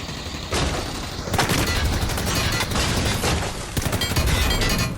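Rapid bursts of gunfire crackle almost continuously, sharp and loud, with several heavier volleys, a frantic shootout in the video game Ring of Elysium.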